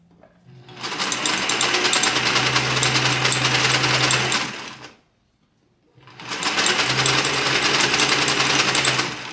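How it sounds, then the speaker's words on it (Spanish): An electric sewing machine stitches fabric for a folkloric skirt, loud and close, in two long steady whirring runs separated by a short pause. "Y así se va cosiendo todo."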